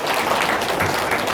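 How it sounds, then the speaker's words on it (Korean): Audience applause at a disability policy meeting with a Daejeon mayoral candidate, a brief continuous wash of clapping at steady loudness. "박수 한번 쳐주세요."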